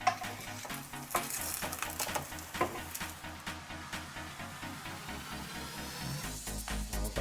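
Aubergine slices frying in olive oil give a loud, close, continuous sizzle, broken by scraping and clinking of a utensil against the pan as they are turned.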